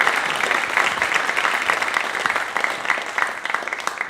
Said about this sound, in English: Big round of applause, y'all.